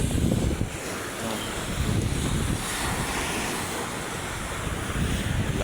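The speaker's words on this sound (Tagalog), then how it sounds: "Ang lakas ng alon." Strong waves surge along the rocky Manila Bay shoreline, a continuous loud roar of surf with heavy wind noise buffeting the microphone throughout, no voices.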